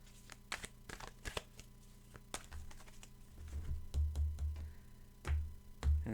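A tarot deck is shuffled by hand up close in a quiet room, giving soft irregular clicks and crisp card flicks along with a few low thumps as the cards are handled.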